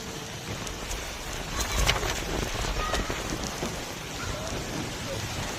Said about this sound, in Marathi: रिमझिम पावसाची या ठिकाणी सर या ठिकाणी आपल्या समोर दिसत आहे